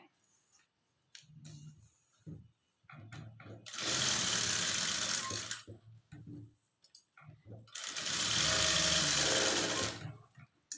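A sewing machine stitches a blouse in two loud, steady whirring runs, with a voice talking quietly in the pauses before them.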